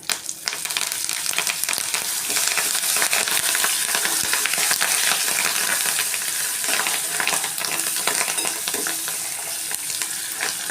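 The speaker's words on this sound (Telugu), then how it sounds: "చిటపట్లాడతా పోపు వేగిపోయిందండి" Curry leaves for a raw mango pulihora tempering crackle and sizzle in hot oil, a loud, dense, continuous frying hiss with small pops close to the pan and no talking.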